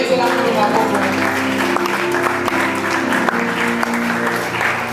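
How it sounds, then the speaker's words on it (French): A church congregation applauds and cheers during a Sunday service, with steady sustained clapping and crowd voices under amplified, music-like tones, all fairly loud and continuous. "Acclame fort le Seigneur."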